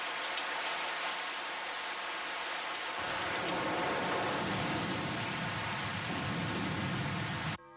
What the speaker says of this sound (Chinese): 我们才能避过这场大雨